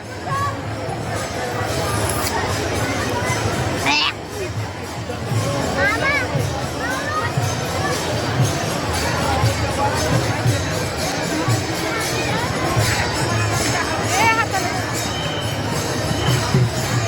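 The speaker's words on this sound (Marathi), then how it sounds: "मला आता कळलं एवढी गर्दी." A large crowd mills about at a busy outdoor gathering, a dense continuous babble of many voices near and far, with occasional shouts rising above the hubbub.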